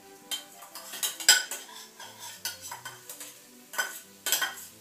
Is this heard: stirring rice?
yes